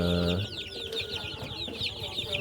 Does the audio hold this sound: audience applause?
no